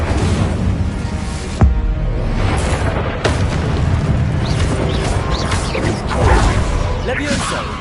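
An Incendio fire spell is cast in Hogwarts Legacy on PS5, with sudden booming cracks and whooshing, crashing combat noise over a dense rumbling bed while a voice is heard.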